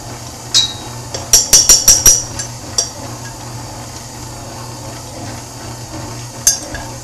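Flour being stirred into a honey garlic beer bread dough made with golden ale, heard as a quick run of sharp knocks of a utensil against the bowl, then a few isolated taps, close and alone.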